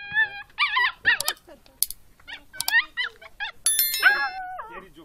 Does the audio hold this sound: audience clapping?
no